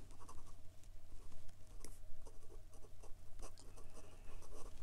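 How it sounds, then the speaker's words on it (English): A gold-nib fountain pen scratches across paper in reverse strokes, giving a dry, close, continuous scratching with quick irregular bursts over a low steady hum. "and for some reverse writing"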